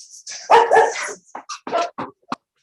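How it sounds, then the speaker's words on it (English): Puppies bark and yip close by: a pair of longer whiny barks, then several short sharp yips in quick succession. "I have puppies."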